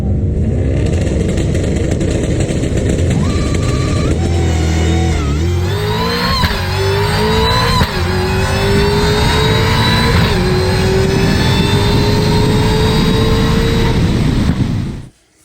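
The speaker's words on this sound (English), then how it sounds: "as soon as I dumped the clutch, the RPMs went all the way up, and then it started to level off, and then it dipped a little bit for lockup" Car engine revving hard as the clutch is dumped, climbing steadily in pitch to around 5,000 RPM, levelling off and dipping slightly as the clutch slips then locks up; loud, close and continuous for about fifteen seconds before cutting off.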